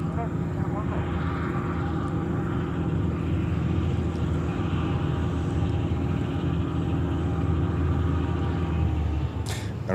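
Aircraft engine noise around JFK airport in New York, a steady, loud broadband roar holding across the whole stretch as a Boeing 787 Dreamliner taxis, with voices talking over it.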